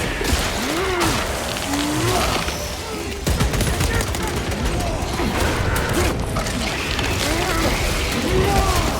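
Rapid, steady gunfire from Warhammer 40,000 Space Marine 2 rattles on continuously with a dense mechanical chatter, loud and close, while game voices talk over it.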